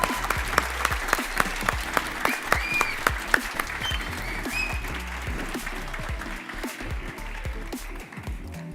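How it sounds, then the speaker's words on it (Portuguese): Loud, sustained applause from a conference audience, dense clapping throughout with a few scattered cheers or whistles rising above it. "uma salva de palmas para eles"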